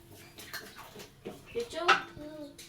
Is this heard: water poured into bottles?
yes